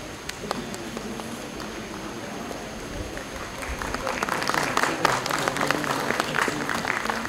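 Applause from a conference audience, a steady low patter of many hands that swells in the second half, with a voice and crowd murmur underneath.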